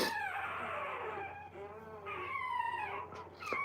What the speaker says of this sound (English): And yeah, you hear puppies in the background, John.